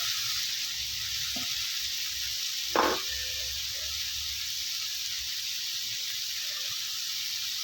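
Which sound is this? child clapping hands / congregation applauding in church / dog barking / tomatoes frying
tomatoes frying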